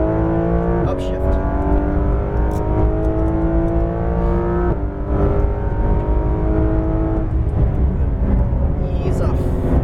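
A Porsche GT3 RS 991.2 on a track at Exotics Racing Las Vegas pulls hard through the gears, its engine rising in pitch with sharp breaks at each upshift, loud and close from inside the car, with a voice talking over it.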